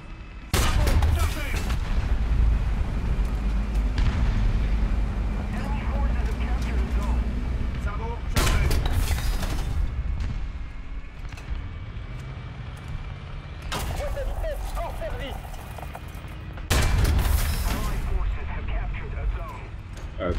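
Tank cannon shots and hits in War Thunder, with the AMX-40 French main battle tank in the fight: several heavy booming blasts stand out over a constant rumbling engine drone, and someone talks throughout.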